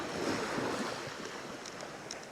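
Ocean waves wash in steadily at Shelley Beach at twilight, a soft continuous surf rush with some wind buffeting the microphone and no voices.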